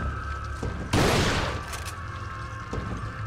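A single loud, close burst of gunfire from a Resident Evil 4 firearm on GameCube, with a broadband blast that decays over about a second against a steady game background and no talk.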